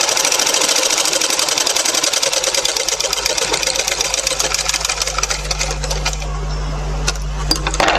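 A tailoring sewing machine stitches in a fast, steady mechanical chatter, loud and close, with a low motor hum rising toward the end and a few small clicks.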